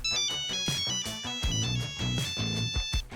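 A Nokia polyphonic mobile phone ringtone plays a bright, bouncy electronic melody with a steady beat, loud and close, with no other sounds.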